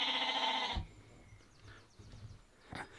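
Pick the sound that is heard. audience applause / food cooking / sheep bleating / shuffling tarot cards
sheep bleating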